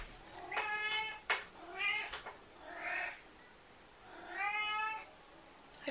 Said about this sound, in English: Have you guys ever heard a cat meow like that?